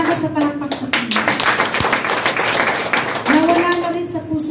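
A church congregation claps for the Lord, a dense wash of hand claps running beneath a preacher's loud speech.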